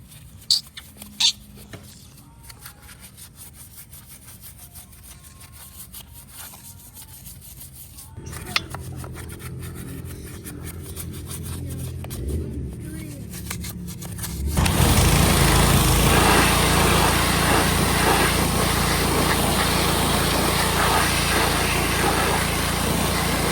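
A pressure washer blasts degreaser off a '68 Impala's LQ9 6.0 engine, first a quieter motor hum with clicks and rubbing, then a loud, steady hissing spray roaring in close for the last third.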